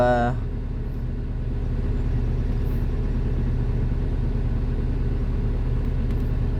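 A SANY SY215C crawler excavator's engine runs with a steady, loud low rumble that rises briefly at the start and then holds a constant drone, close by, with no talk over it.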